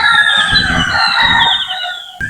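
Chickens cluck and a rooster crows loudly and up close at a backyard coop of native chickens and chicks. The crowing is drawn out and strained over steady low clucking, with no talk.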